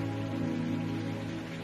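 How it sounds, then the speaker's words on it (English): Heavy rain pours in a steady, dense hiss with no breaks, close and continuous, and no voices heard. "it's raining hard"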